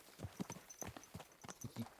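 Rhythmic clip-clop of horse hooves at a steady walking pace, close and moderately loud, with a faint high tone in the background, in the video game Kingdom Come: Deliverance II.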